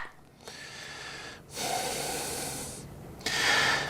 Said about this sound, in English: this guy had a cold and was coughing and blowing his nose throughout the entire movie